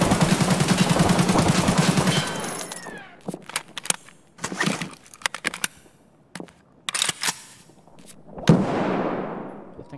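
Gunfire shoots through the floor in Escape from Tarkov: a dense sustained burst of automatic fire, then several separate sharp shots and short bursts with gaps between them, ending in one loud decaying report.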